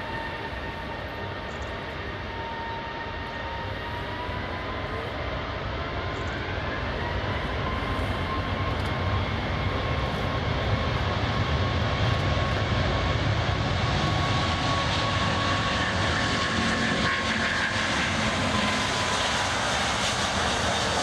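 A Lufthansa Airbus airliner takes off from runway 28 Right at San Francisco, its engines a steady, loud, broadband roar that holds for the whole stretch with a rising tonal whine, heard without any talk.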